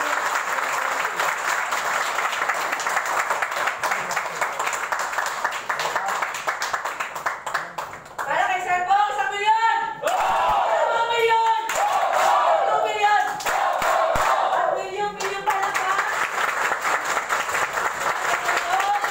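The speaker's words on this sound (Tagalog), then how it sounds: "okay lang ba yung huling palakpak?" Audience applause fills the hall, a dense steady clapping that dips midway while voices cheer and call out over it, then swells back to full clapping.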